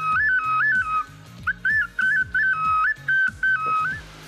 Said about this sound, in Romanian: Pe lângă măști, meșterul modelează fluiere pentru copii.